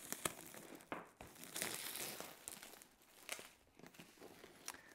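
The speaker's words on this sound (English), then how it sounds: "Just taking that cellophane off." Cellophane wrapping is peeled off a Warhammer 40K Chaos Knights army set box, giving faint, close crinkling and tearing rustles in irregular bursts, with no speech.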